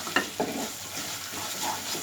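Broccoli goes into a hot pan and is stirred, a soft continuous sizzle with a couple of brief scraping knocks near the start, fairly quiet and with no speech.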